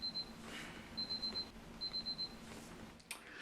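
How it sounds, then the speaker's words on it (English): A fake-out jump scare alarm beeping in short rapid pulsed bursts, three clusters of high electronic beeps over faint background noise, fairly quiet and alone. "that was just my pointless fake-out jump scare alarm"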